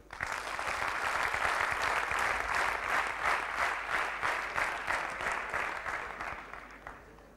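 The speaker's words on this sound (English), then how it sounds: "Let's clap for him again." An audience at a corporate talk applauds a business leader, a strong, full round of clapping with a rhythmic pulse that swells quickly, holds, then tapers off near the end.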